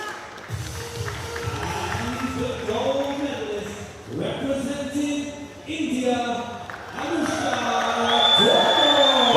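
A crowd and fellow athletes cheer after a women's junior 50m rifle three-positions shooting final at an ISSF Junior World Cup in New Delhi. The mixed voices and cheering rise and fall steadily for the whole stretch, with people talking throughout.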